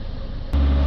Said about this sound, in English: now I'm going to start the engine up, let it idle for a minute